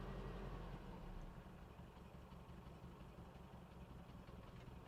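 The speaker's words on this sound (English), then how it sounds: "it's idling real low, it's shaking pretty bad, but it's running" A Toyota pickup truck engine idles low and rough, a steady rumbling drone with an uneven, shaky pulse throughout.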